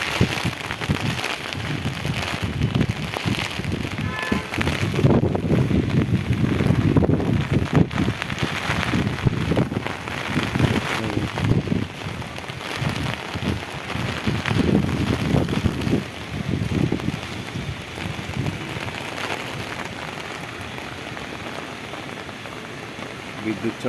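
Heavy rain pours during a thunderstorm over a road overpass with slow-moving traffic, a steady hiss and patter mixed with wind buffeting the microphone and vehicle rumble, with a voice talking at times.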